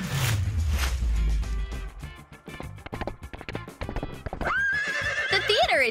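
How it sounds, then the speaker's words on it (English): A horse neighs loudly in a comedy skit about a western showing at a cinema, a long whinny mixed with clip-clopping hooves and rustling, rising into a high wavering neigh at the end. "and Phil decided to come with his own horse"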